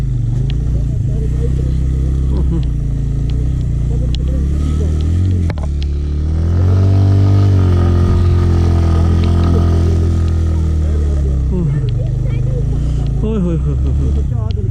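A motorcycle stuck in water revs hard and strains in long surges, loud and close, with water sloshing and voices talking over it.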